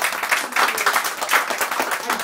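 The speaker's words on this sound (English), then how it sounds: "Round of applause." A crowd at a New Year party claps for a speaker, a dense and steady patter of many hands held close at an even loudness from start to finish.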